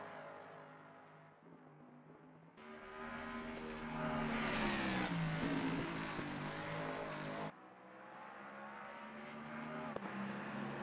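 A loud, snarling Mustang GT3 race car engine in Assetto Corsa Competizione revs and roars, with harmonic pitch rising and falling as it accelerates and shifts gears, continuous throughout with no talk.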